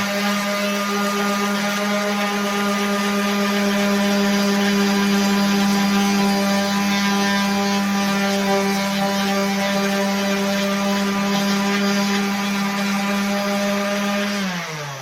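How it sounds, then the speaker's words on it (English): A 5-inch random orbital sander with a 40 grit pad runs steadily on a metal trunk arm, a close, even whirring drone that holds unchanged for about fifteen seconds and winds down slightly at the end. "I'm using a random orbital 5-inch with a 40 grit"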